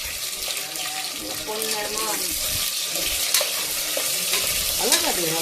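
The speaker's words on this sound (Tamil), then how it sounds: "சேர்த்து பொன்னிறமாக" Chopped onions and green chillies for biryani sauté in a pan with a continuous close sizzle and stirring scrapes, while someone talks over the cooking.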